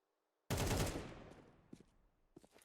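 AK rifle fire in a Counter-Strike match, a sudden loud burst of rapid shots that rings out and decays, followed by a few fainter distant reports.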